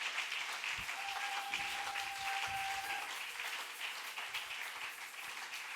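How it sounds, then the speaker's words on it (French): A church congregation at a Sunday service applauds in sustained, even clapping that fills the room as a dense wash of hand claps from many people, with no pauses. "on acclame pour Dieu"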